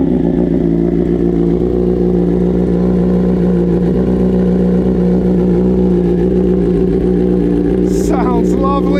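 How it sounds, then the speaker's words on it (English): A 2023 BMW M 1000 RR with a full titanium Akrapovic exhaust starts from cold and settles into a loud, close, steady, throbbing idle; a brief voice comes in near the end. "what you will get is a cold start with this gorgeous full titanium aero exhaust"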